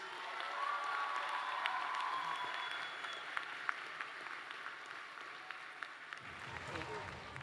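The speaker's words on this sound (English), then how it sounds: "let's give a round of applause for our staff members" Steady applause from a crowd at a high school commencement ceremony honoring school staff, sustained moderate clapping with a few cheers that tapers slightly toward the end.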